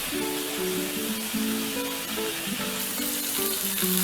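Boneless skinless chicken sizzles steadily in a hot, oil-free pan, a continuous close frying hiss with crackling spits and faint tonal squeaks throughout, no voices.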